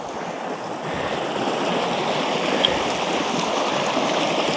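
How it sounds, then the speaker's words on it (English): Wading across a cold, glacial river on a hiking trail brings a close, continuous rush and churn of moving water, mixed with some wind buffeting, and no voices. "I'd be crossing a river."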